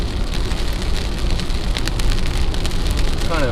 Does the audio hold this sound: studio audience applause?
no